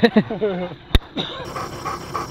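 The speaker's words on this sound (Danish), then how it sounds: "Når hundene får færd, hopper de selv af bilen og løber efter svinene." Hunting dogs on a pig hunt in eastern Australia panting hard with quick rhythmic breaths and a brief whine, close up, followed by a sharp knock and a voice talking over outdoor noise.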